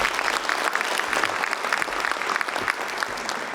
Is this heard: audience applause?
yes